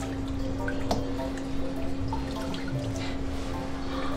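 Water is ladled and poured over a young Bichon puppy in a bath, giving soft splashes and drips against a steady background hum.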